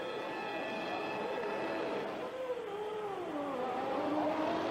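Olivier Panis's 1994 Ligier Formula 1 car at a pit stop in Hockenheim, its engine a high, wavering whine that bends up and down in pitch, moderately distant under a continuous hum of track noise.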